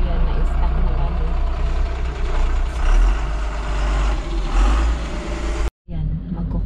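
A large truck rumbles loud and close on a congested mountain road in Nepal, its heavy engine droning steadily before a brief sudden cut, with people talking over it.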